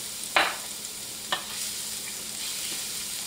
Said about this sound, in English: I always like to add the garlic next and kind of saute the garlic in the oil